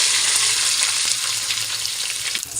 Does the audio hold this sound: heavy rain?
no